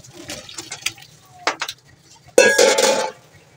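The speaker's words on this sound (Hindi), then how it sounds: "आलू उबल चुके हैं, अब हम इनका पानी निकाल देंगे" Water from boiled potatoes is poured off through a strainer, with a few clinks of a pot and a short burst of splashing, pouring water at close range.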